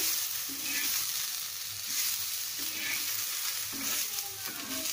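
Sprouted moth bean and mung mix sizzles with onion in a frying pan while a spoon stirs it, giving steady close frying hiss broken by repeated scraping strokes.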